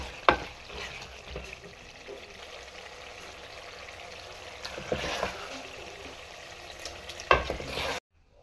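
Aloo anda matar curry, potato, egg and pea, simmering in a pan, a steady low sizzle and bubble with occasional soft stirring scrapes, close and moderately quiet, without talk.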